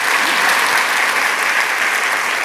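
Conference audience at a Ruby programming keynote applauds steadily, a dense, even wash of many hands clapping at once, loud and sustained throughout without any talk.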